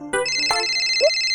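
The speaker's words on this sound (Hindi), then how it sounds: "फोन उठा।" A phone's electronic ringtone chimes close by, a short melodic tone sequence repeating clearly with no talking.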